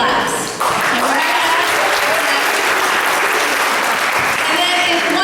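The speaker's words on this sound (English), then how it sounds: "if one person claps, everybody claps" A room full of people in a leadership academy session bursts into loud, sustained group applause that fills the whole stretch, with voices mixed in among the clapping.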